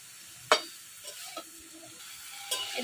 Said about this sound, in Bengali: এদিকে সবজি ভাজা হোক